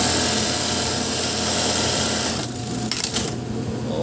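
A sewing machine, freshly cleaned during a buttonhole repair, runs steadily at speed with a dense mechanical whir, briefly easing off and then resuming near the end.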